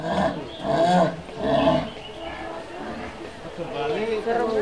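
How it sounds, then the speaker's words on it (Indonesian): A jaguar at Batu Secret Zoo, Jatim Park 2, gives a few deep rasping roars in rhythmic bursts, with visitors chattering and talking around it. "Jaguar."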